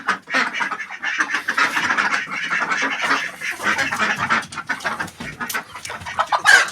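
A newly acquired rooster among other fowl gives dense, close clucking and squawking calls that come in quick bursts without a break, loud and busy, with no talking.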